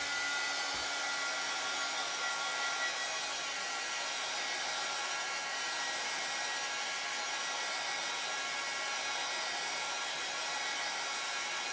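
A hair dryer blows steadily on a freshly painted surface, a loud, even rushing hiss that holds for the whole stretch with no break and no voices.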